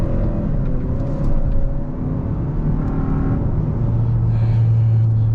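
A Hyundai Sonata N Line held in second gear gives a steady, loud engine drone with a low rumble that swells slightly, heard from inside the car with road noise and no talking.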